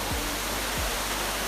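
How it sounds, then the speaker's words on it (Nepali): A large waterfall near Nagarkot, Nepal, heard up close as a loud, steady rushing roar that fills the whole moment, with a couple of brief low thumps underneath. "ल फाइनली आइपुग्या छ झर्ना।"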